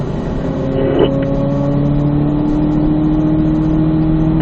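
A car on a driving course accelerates hard out of a corner, its engine note rising steadily and loud, heard from inside the cabin without any talk.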